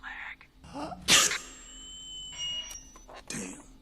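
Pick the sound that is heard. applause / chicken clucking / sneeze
sneeze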